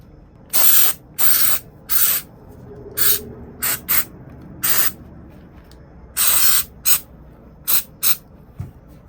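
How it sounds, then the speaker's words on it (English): Break-Free CLP cleaner lubricant is sprayed onto a vintage Ulster Boy Scout knife in about eleven short, sharp hissing bursts of varying length, close and alone, with quiet gaps between. "We're just gonna use this CLP here. Break-free cleaner, lubricant, and preservative."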